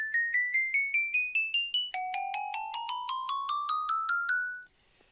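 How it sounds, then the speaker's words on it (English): Minecraft note blocks placed on gold blocks ring out as bright bell tones, two rapid rising runs of evenly spaced struck notes that climb in pitch, loud and close, with nothing else heard. "The next sound is bells, which it makes a sound when you place it on top of gold blocks."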